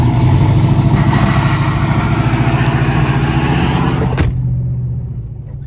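A truck engine runs hard with the brake held, a loud, near, pulsing rumble that holds steady for about four seconds before cutting off sharply into near quiet.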